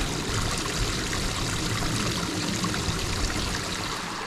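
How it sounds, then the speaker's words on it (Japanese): A mountain stream on a hiking trail babbles in a dense, steady rush of water over rocks, close and continuous throughout, with no voices. "気持ちいいですね、川のせせらぎは。"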